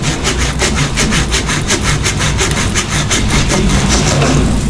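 Steady back-and-forth sawing through a tree trunk, a rhythmic rasping stroke repeating quickly and loudly up close.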